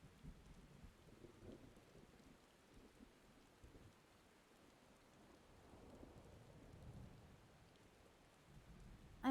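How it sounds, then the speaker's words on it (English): Steady rain with low rumbling thunder in a desert area of the video game Final Fantasy XIV, a quiet, continuous wash of rainfall with soft rolling swells and no voices. "And now it's raining again."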